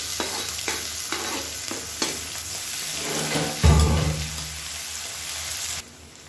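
Onions, urad dal and curry leaves frying in oil in a pan, a steady close sizzle with spoon stirring scrapes and a louder sputter burst midway.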